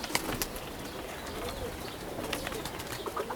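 Pigeons coo softly and repeatedly inside a pigeon loft, low rhythmic calls overlapping at close range, with light shuffling and occasional wing rustles around them.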